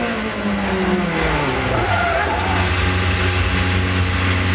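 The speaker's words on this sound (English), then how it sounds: "coming up the front straightaway, too much speed, and just does an unforced error spin" Race car at the 2006 American Le Mans Series spinning out on the front straightaway after carrying too much speed; a loud, steady engine roar with shifting pitch and tire noise runs continuously, no pauses.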